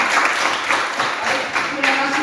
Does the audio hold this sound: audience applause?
yes